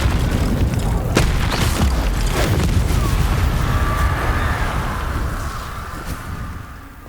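A Confringo fire blast spell explodes in Hogwarts Legacy with a loud, sustained booming rumble that rolls on for several seconds before slowly fading.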